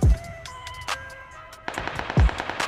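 PUBG gunfire: a few sharp, loud shots followed by a rapid cluster of cracks and another heavy report near the end, with short silences between bursts.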